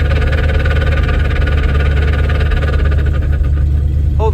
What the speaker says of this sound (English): Show you what happens when I release the clutch.